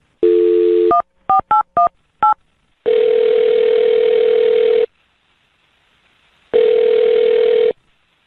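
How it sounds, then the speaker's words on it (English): A telephone handset plays a steady dial tone, then a quick run of touch-tone dialing beeps. Two longer tones follow, separated by a silent pause, all loud and close with no talking. "I'm going to dial his phone number right now"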